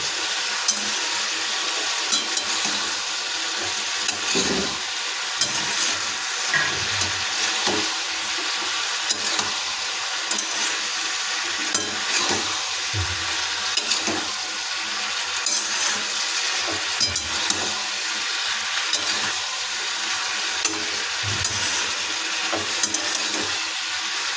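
Potatoes, onions and green peas sizzle steadily in a pan over low flame while a spatula stirs them, with soft scraping taps recurring every few seconds throughout.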